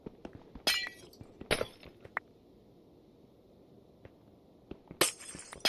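Glass blocks breaking in Minecraft, three or four short bright shattering crunches spaced apart among soft clicks and footsteps, fairly close and clear with no talk.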